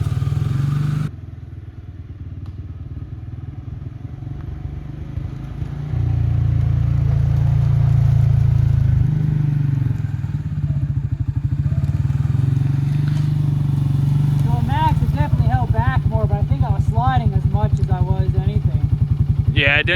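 A Can-Am Outlander Pro HD7 ATV rides in low-range four-wheel drive, its engine running at a steady moderate pitch without revving high, with rattling and clatter toward the end and a voice speaking over it.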